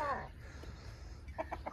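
Chickens outside a poor settlement's huts give faint clucks, with a short call at the start and a quick series of soft clucks near the end, set against low background noise.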